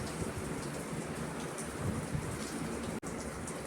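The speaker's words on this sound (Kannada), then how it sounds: "ಎಷ್ಟು ಜೋರು ಮಳೆ ಬಂತು" Heavy rain pours down steadily in Udupi, a dense continuous roar of drops close by with no voices, one brief dropout near the end.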